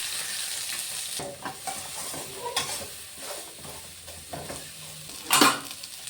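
Bitter gourd sautéing in a pan, a crackling sizzle with repeated scraping stirs of a utensil and one sharp clatter near the end, heard up close with no talk.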